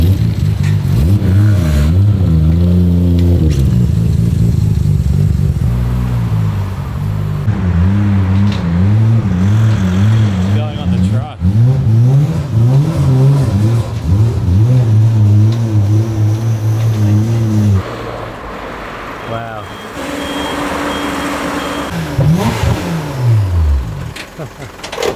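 The engine of a Mine's Motor Sports tuned Nissan GT-R demo car revs up and down repeatedly, loud and close, with rising and falling pitch sweeps and burbling idle between revs.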